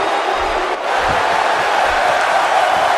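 Wrestling crowd at an ACW Impulse event cheering and roaring steadily throughout, a dense, loud wash of arena noise with occasional louder swells.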